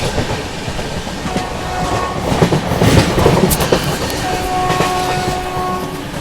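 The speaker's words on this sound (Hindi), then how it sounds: "Overtaking Kolkata Jammu Tawi express." An Indian Railways West Bengal Sampark Kranti Express overtaking the Kolkata Jammu Tawi Express, loud and close, with a steady rumble and wheel clatter and a horn sounding through the passing.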